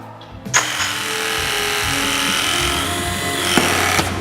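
A Ridgid RE6 battery-powered tool crimping lugs runs with a steady electric-motor whir and hydraulic drone lasting a few seconds, starting with a sharp onset and ending with a click as the crimp completes.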